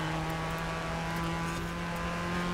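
A car engine in the racing game Forza Horizon 4 holds a steady, droning hum at a constant pitch, fairly quiet and with no talking over it.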